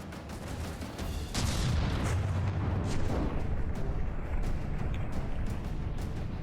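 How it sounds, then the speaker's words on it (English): Battleship gunfire in the naval combat game From the Depths during a grand battleship tournament: dense, continuous rumbling barrages of cannon fire with overlapping booms and crackling impacts, loud and sustained throughout. "We're getting shot from behind here."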